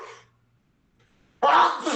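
A single close, loud sneeze bursts out after a brief quiet pause, preceded by a short trailing vocal sound.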